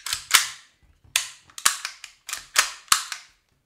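An upgraded PX4 airsoft pistol, fitted with a new inner barrel, hop-up seal, piston head and valve, fires seven sharp, close cracks in an uneven sequence with short silences between them.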